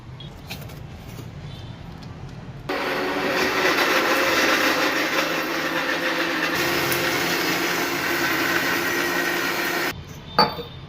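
A mixer grinder grinds chutney with salt and half a glass of water, a steady loud whirring roar that runs about seven seconds before cutting off, followed by a brief clunk.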